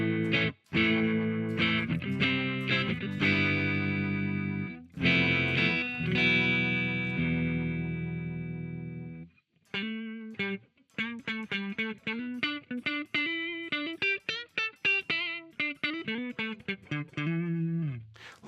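Electric guitar run through an IK X-Vibe pedal set to a 60s vibe effect, first ringing sustained chords that wobble and shimmer, then a quick plucked single-note line, all loud and close with no talking.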